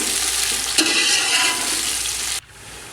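Onions fry in hot oil with a bright, continuous sizzle and one short clatter, close and fairly loud, before the sound drops away abruptly near the end; no one speaks.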